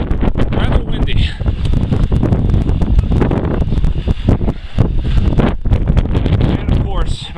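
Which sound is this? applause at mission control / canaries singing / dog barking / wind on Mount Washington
wind on Mount Washington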